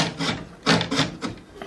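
A handsaw cuts through a wooden board in a series of rasping back-and-forth strokes, each a short rough burst with brief pauses between, close and clear.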